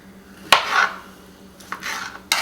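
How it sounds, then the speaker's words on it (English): A knife cuts fresh tomatoes into chunks of about 1.5 to 2 inches on a cutting board, giving a few separate close chopping knocks and slices with short pauses between them. "We're going to cut those into chunks."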